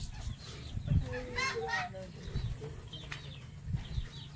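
Chickens clucking at feeding time on a farm, a few soft, close clucks and short calls scattered through, quiet and intermittent, with a voice speaking now and then.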